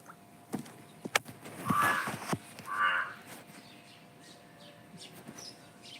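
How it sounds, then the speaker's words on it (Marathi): A crow caws in the trees around a farmhouse, a few scattered calls that are faint and distant, with quiet outdoor ambience between them and no talking. "कावळा आहे वरती"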